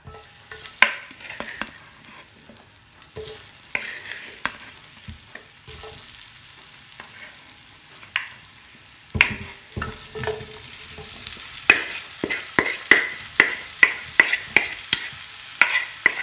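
Potatoes go into a Lodge cast iron skillet preheated in a 400-degree oven and sizzle, with a run of crisp scrapes and clinks that grow busier and louder near the end.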